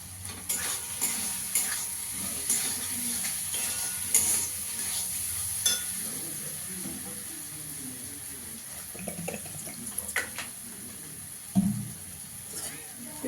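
Spice paste with Kashmiri chili powder frying in a pan, a steady soft sizzle with repeated spoon stirring and scraping, occasional clinks of the pan, close and fairly quiet throughout.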